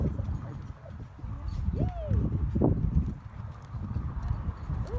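Hooves of a young horse and an older horse clip-clop in a steady walking rhythm, close and fairly soft, with background noise and a brief whinny-like call.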